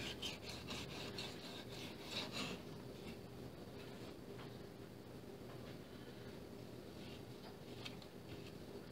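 Knife slicing thin slices of smoked bacon: a run of rough rasping strokes, denser and louder at first, then softer scraping that continues alone without talk.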